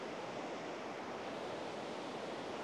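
Ocean surf washes steadily along a beach in a continuous broadband roar, without distinct breaks or any voices.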